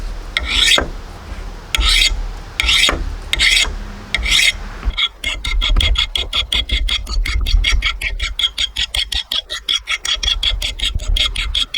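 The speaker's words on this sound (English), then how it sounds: "We're just gonna hit it with a file and get it to that sharp point so it's even on both sides." A metal file rasps across the broken edge of an axe head in steady strokes, first a few slow separated passes, then a fast, regular run of short close strokes, loud and near with no talk.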